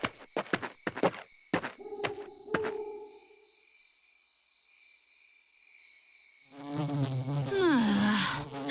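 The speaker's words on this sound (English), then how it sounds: "Noisy, disgusting bugs that buzz around and crawl all over and bite you" Insects buzz in the game Fire Emblem Awakening, a steady high drone heard after a burst of sharp percussive hits and a pause, swelling louder toward the end with no talk.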